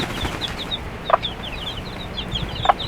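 Hen with a brood of newly hatched chicks, some incubator-hatched, giving steady faint high peeps throughout, with two short louder clucks from the hen.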